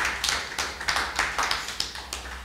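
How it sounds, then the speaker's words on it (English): Audience applause breaking out at a political conference gathering, a run of rhythmic, fairly close hand claps in steady bursts with no speech over it. "You're allowed to clap."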